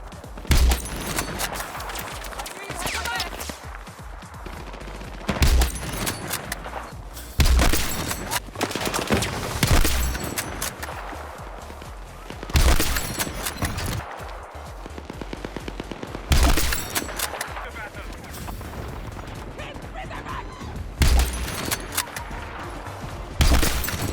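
Sniper rifle fire in Battlefield 6 cracks out in sharp, loud bursts every few seconds, each shot followed by a decaying rumble over a constant backdrop of in-game battle noise, with no talk.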